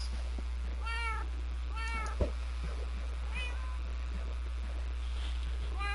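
Cats meow inside the game Minecraft, several separate drawn-out calls spaced a second or so apart over a steady low background hum, moderately loud and with no talking.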